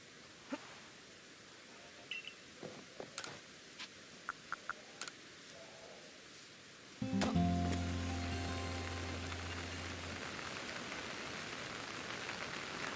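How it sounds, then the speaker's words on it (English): Rain in the video game Pokémon Legends: Arceus: scattered clicks and faint taps give way to a steady hiss of thunderstorm rain that starts abruptly and continues, joined by a low hum. "that certainly sounds like rain"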